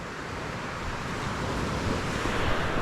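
Sea waves wash steadily against a shore, a broad continuous surf roar that swells slightly toward the end, with some wind buffeting and no talk.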